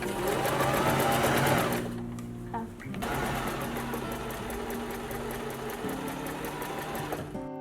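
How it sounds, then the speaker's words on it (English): A sewing machine runs steadily, stitching a fabric tarot mat, its motor whirring loud and close with a brief pause midway before resuming; a voice speaks faintly underneath. "Teaching Maria to sew"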